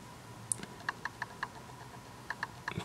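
Keystrokes on a keyboard connected to a tablet, a dozen or so sharp clicks in uneven bursts, close and fairly quiet against a faint background.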